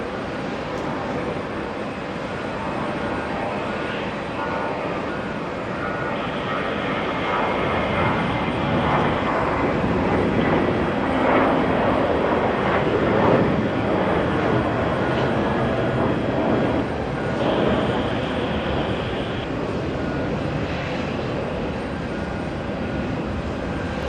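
A JetBlue Airways jet airliner arrives at JFK from Denver, a loud rumbling engine roar that swells toward the middle and then eases, with steady tonal whine throughout.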